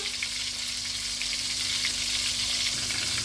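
Eggplant sizzles and fries in a hot pan, a steady, close crackling hiss that carries on without a break.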